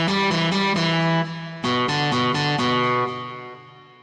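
Electric guitar plays a short melodic phrase of sustained notes, with repeating echoes trailing each note and a fairly dry, close tone fading out at the end.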